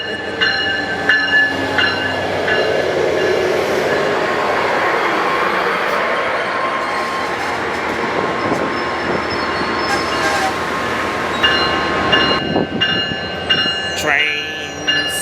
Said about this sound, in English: This is a good train going to the good place.